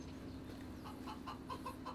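Farmyard chickens in Farming Simulator 25 give a run of distinct, fairly close clucks that grow more frequent toward the end, over a faint continuous game ambience.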